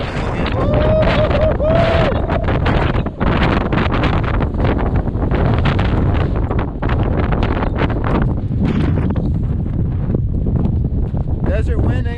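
Strong desert wind buffets the microphone on a hiking trail in Arizona, a loud continuous roaring rumble with gusty surges throughout.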